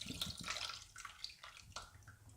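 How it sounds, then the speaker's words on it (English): Pineapple juice is poured into a sweet and sour sauce, a faint, close trickling and splashing of liquid that lasts a couple of seconds in a quiet kitchen. "I'm going to add my pineapple juice"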